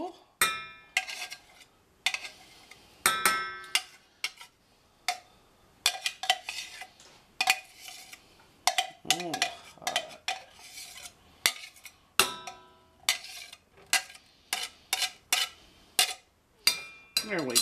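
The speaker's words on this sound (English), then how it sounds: "I just got a little bitty spoon for that" A small spoon clinks repeatedly against dishes and utensils while a Tex-Mex mole sauce is prepared, giving bright, close metallic taps in irregular clusters with brief pauses between them.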